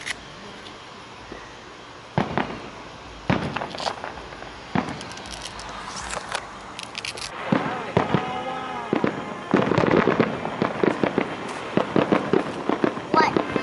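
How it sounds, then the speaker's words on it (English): Fireworks bursting and crackling outdoors during a Fourth of July family celebration, with repeated booms and sizzling crackles, some sharp and close, under scattered talk from family members. "Do you like the fireworks show?"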